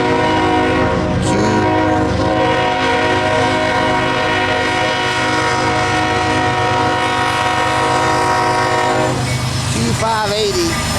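CSX southbound manifest freight of empty rack cars led by an ES44AC near Dalton, with a loud sustained horn blast over the steady roar and rumble of the passing train, close by.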